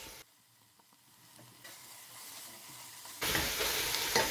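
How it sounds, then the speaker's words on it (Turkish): Chopped garlic and onions sauté in olive oil for an eggplant dish, a quiet crackling sizzle with light stirring that swells suddenly louder near the end as the garlic goes into the pan; no talking. "Soğanım hafif kendini bıraktıktan sonra 4 diş sarımsak doğramıştık. Sarımsağımızı ilave ediyoruz."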